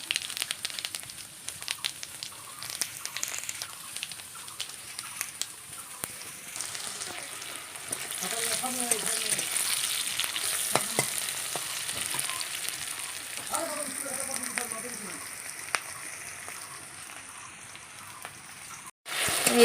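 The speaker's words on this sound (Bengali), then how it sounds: "তো এখন তেলের মধ্যে দিয়ে দিচ্ছি এই যে জিরে," Cumin, dried chilli and bay leaf fry in hot oil with a steady, close sizzle that runs the whole time, plus a few louder crackles and spatters as the spices hit the oil.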